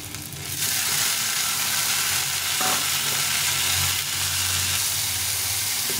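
Tomatoes tipped into a pan of frying onions set off a steady, loud sizzle that swells right after they go in and keeps hissing evenly to the end, with no talking.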